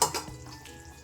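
Shol fish pieces dropped into hot oil in a home kitchen for a curry, giving a brief burst of sizzling and frying crackle with a clatter of a spatula or pan, settling into a steady hiss.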